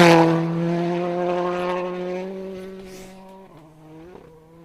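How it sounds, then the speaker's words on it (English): Rally car on a stage of the Circuit of Ireland Rally, a loud engine note close by and fading as it passes, pitch sliding down with a brief gear-change blip near the end. "I can hear a rally car"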